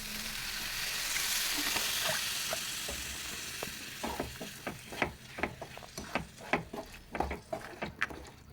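Food sizzles in a pan with vinegar and salt, a steady frying hiss that gives way to a run of sharp scraping stirs, close and moderately loud, with no talk.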